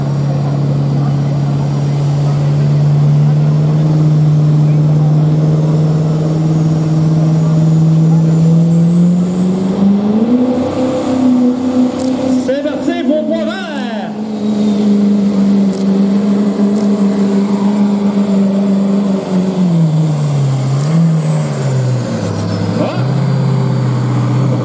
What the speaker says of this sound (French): On monte le véhicule en révolution